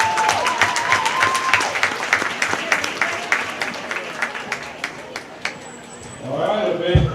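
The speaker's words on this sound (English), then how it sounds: "So give them a good round of applause" An audience claps at a county fair market goat show, a dense round of applause that tapers into scattered claps, with a voice speaking over it and other noise rising at the close.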